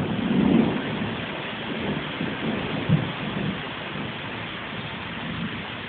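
A tropical thunderstorm pours steady rain with a soft, distant rumble of thunder, a muffled, low wash of sound with a couple of brief swells and no voices.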